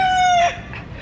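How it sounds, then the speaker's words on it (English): A cockerel crows once in open greenery, a loud, drawn-out call that fades into quieter ambient sound by the second half. "There's a cockerel as well."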